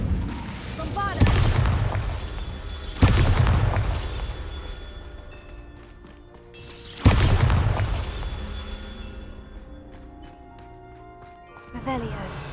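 Repeated Bombarda spell blasts in the Hogwarts Legacy video game, four heavy booming explosions at irregular intervals, each a sharp loud burst decaying into a rumbling tail, with game speech and effects between.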